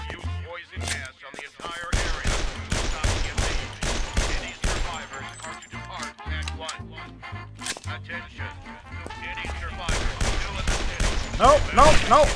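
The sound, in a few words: gunfire in the video game Guns, Gore & Cannoli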